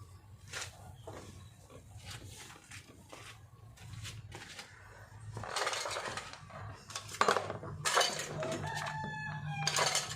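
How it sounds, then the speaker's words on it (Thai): Dishes, bowls and cutlery clatter and scrape in irregular bursts during washing up after breakfast, with a rooster crowing and hens clucking nearby in the background. "ล้างจานพ่อแม่พี่น้อง ล้างถ้วย ล้างจานนะคะ"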